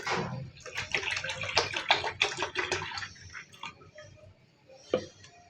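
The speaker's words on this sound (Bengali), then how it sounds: "পানিটা দুধের উপর ঢেলে দেব।" Water pours onto milk in a pot with a splashing stream for a few seconds, then trickles off into a few scattered drips.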